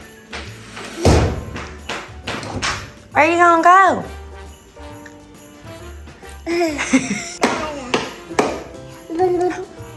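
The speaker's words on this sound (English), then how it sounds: "Please don't use a hammer." Several sharp thuds and taps of a hammer striking a treadmill land irregularly, mixed with a child's excited squeals and nearby talking.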